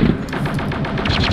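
Rapid bursts of automatic blaster gunfire in a Star Wars Galactic Contention battle on Geonosis, a dense rattling stream of shots, close and loud, with no talk.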